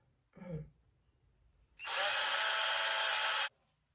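A handheld power drill drives a bolt in one loud, steady whir lasting under two seconds, preceded by a brief breathy sound from someone nearby, with quiet room noise before and after.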